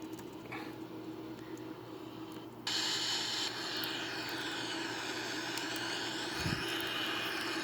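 Airbus A340-313X jet engines on approach to the runway, a steady whining roar heard from inside with a sudden brighter shift partway through, continuous and moderately loud.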